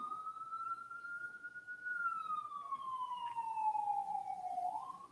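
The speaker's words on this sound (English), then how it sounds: "Is the siren showing up?" A single emergency vehicle siren wails at a distance, its tone rising slowly and then sliding down in a long sweep, faint against a low background hiss.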